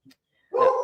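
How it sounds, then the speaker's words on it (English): A dog gives a single sharp bark close by, loud and alone after a brief faint sound, in an otherwise quiet indoor room. "apparently my dog really wants to be a part of our podcast"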